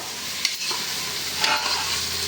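Onions fry and are stirred in a pan while making Telangana-style chicken gudalu, a soft sizzle broken by a few scraping stirs, close and fairly quiet, with no voice.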